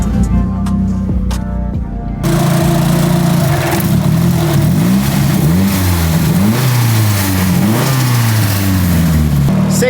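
A turbocharged Nissan 240 JDM car engine revs loudly and up close, rising and falling through several repeated throttle blips after a brief quieter opening, with no talking.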